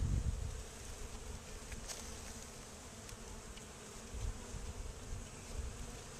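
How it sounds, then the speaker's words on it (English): A swarm of honey bees buzzes inside a swarm trap, a continuous, faint, dense drone with no voices, slightly fuller at the start and near the end. "I hope this thing is picking up the sound of the"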